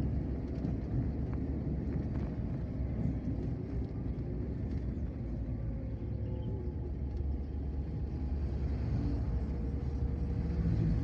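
Heavy trucks and other large vehicles roll along the Palembang–Betung eastern highway in Sumatra, a continuous low rumble of engines and tyres heard from inside a moving vehicle, with no clear passes standing out.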